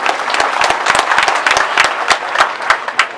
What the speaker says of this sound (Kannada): ನೀವೆಲ್ಲ ಚಪ್ಪಾಳೆ ತಟ್ಟುವ ಮೂಲಕ ಹೇಳಬೇಕು